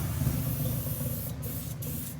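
Detailer spray can nearly empty, sputtering mostly air onto a dirtbike boot: a steady close hiss running throughout, briefly dropping out twice near the end.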